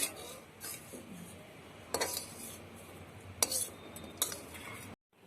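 A metal spoon scrapes and clinks against a pan several times, scooping fried flat beans out in quick, uneven strokes with no talking.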